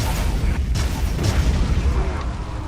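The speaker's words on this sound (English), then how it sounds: "Starting the battle off with another grand explosion." A big in-game explosion rumbles through a Shadow of Mordor battle, a dense, continuous low boom that rolls on for a few seconds with no clear separate blasts.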